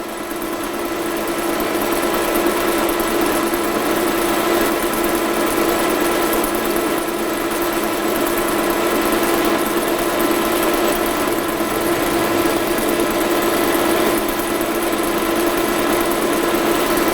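Metal turning on a lathe during a large 43 mm cut with cutting fluid applied, giving a steady, continuous mechanical hum and hiss at even loudness throughout, with no talk over it.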